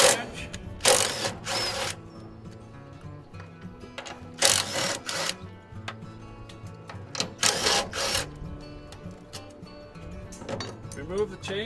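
Ratchet clicks in short bursts while half-inch bolts are worked off a grain tank auger, the mechanical clatter repeating several times with quiet workshop noise between.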